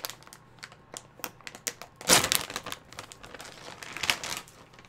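A bag of nacho cheese pretzel chunks is torn open at the notch: light crinkling ticks, then a loud sharp rip of the plastic, then more crinkling, up close with no talking.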